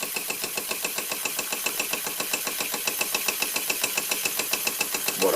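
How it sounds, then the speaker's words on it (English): A 1926 Bing toy steam engine drives a small grinder, chuffing in a fast, even rhythm that stays steady and close with no voices over it. "What a beautiful engine."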